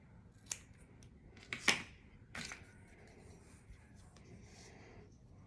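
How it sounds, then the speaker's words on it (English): Small scissors snip through a nail polish strip in a few quiet, close cuts, two or three sharp crisp snips clustered together followed by fainter rustling. "And I'm gonna cut."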